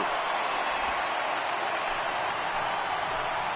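Steady broadband roar of a large stadium crowd of over 31,000 rising to its feet during a baseball game in MLB The Show 18, a continuous loud wash of cheering without distinct voices.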